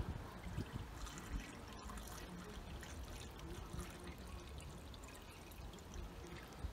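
Antifreeze pours into the cooling hoses of an OMC 140 hp 2.5L inboard boat engine being winterized, a soft, continuous liquid trickle and gurgle at low level with no voices.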